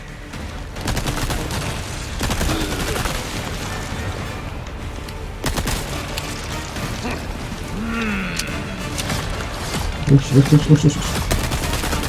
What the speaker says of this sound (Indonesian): Ada tembakan nih, gua kira nggak kena.